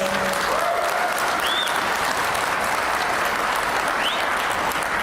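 Dense, steady audience applause at a political gathering, loud and continuous throughout, with a few faint whistles rising above the clapping.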